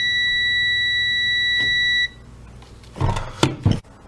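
A continuous electronic multimeter continuity beep, loud and steady for about two seconds before cutting off, followed by clattering handling noises during a Milwaukee Sawzall repair.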